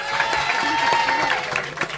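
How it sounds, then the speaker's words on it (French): An audience claps and cheers in a dense burst of applause, with some crowd voices mixed in, fading slightly toward the end. "Je vous demanderai d'applaudir avec vos applaudissements les plus nourris, Andreas."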